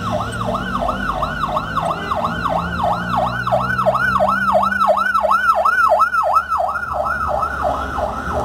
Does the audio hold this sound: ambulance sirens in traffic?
yes